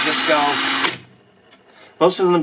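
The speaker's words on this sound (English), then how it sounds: "Use a battery drill for this." A cordless battery drill whirs loudly for about a second, stops, then spins up again after a pause; close and sharp.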